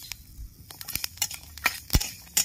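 Black cumin dry-roasting with garlic and green chillies in an empty kadai: light metallic clinks and scrapes of a spatula stirring, scattered and close, with no talking.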